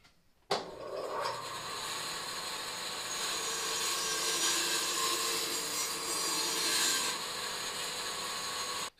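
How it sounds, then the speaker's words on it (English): A bandsaw cuts steadily through wood for a turned pepper mill, starting with a sharp onset and then running as a loud, continuous rasping whine for several seconds before stopping abruptly. "I'm going to cut it off in the bandsaw"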